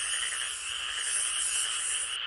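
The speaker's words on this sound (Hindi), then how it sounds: "अचानक बर्तन से मेंढक कूदकर निकलते हैं और सांप निकलते हैं, पूरे फर्श पर फिसलते हैं।" Cartoon frogs jumping out of a magic pot give a continuous, shrill, buzzing chorus of croaks, close and steady, cutting off abruptly at the end.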